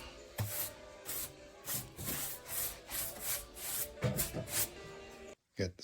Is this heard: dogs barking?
no